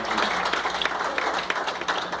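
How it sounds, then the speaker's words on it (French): A church congregation applauds and cheers in praise, a dense, steady wash of clapping with brief sharper peaks, close and continuous throughout, with no clear voice standing out. "Mais nous encourageons-la en acclamant le Seigneur."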